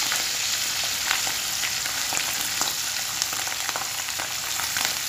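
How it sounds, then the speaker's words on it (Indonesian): Salted pindang fish fries in hot oil in a home kitchen, giving a steady, dense sizzle with scattered pops and crackles throughout. No voices are heard. "ini pindangnya saya goreng dulu sebelum saya kasih bumbu. Kita goreng dulu agak sampai agak kering gitu ya"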